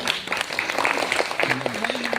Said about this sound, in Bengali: কৌশিক রাজু জোরে হাততালি